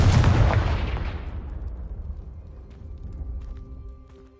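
A Confringo fire spell explodes in the Hogwarts Legacy video game with a loud, close boom that rolls into a long, fading rumble of debris and echoes.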